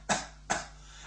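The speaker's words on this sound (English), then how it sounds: "and a bad cough." Two sharp bursts of a person coughing, close and fairly loud, about 0.4 seconds apart, each fading quickly into a quiet background.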